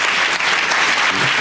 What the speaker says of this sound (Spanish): Eso merece un aplauso. Aplaudan, por favor,